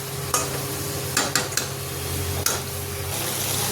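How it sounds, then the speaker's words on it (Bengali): Chicken frying over high heat sends up a dense, continuous sizzle, punctuated by a few sharp clinks and scrapes as a spatula stirs the pan, up close and without talk. "তো চিকেনটা কিছুক্ষণ ফুল আঁচে ভেজে নেব, যতক্ষণ চিকেনের থেকে জল বেরোচ্ছে।"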